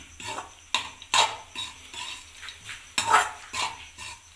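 A spoon stirs savoury atta namkeen halwa in a pan, making repeated soft scraping and clinking strokes at an irregular rhythm close by, with no talking.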